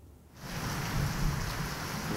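Heavy rain falls during a Saturday-night fire at the Pertamina oil refinery in Cilacap, Central Java, a loud steady wash of downpour that swells in after a quieter opening and holds constant.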